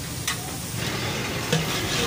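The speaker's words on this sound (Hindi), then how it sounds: "दो मिनट हमने अदरक लहसुन को भून ली है" Ginger and garlic frying in oil in a pot for chicken biryani, a close, steady sizzle with a couple of soft stirring scrapes, brief and continuous, with no voices.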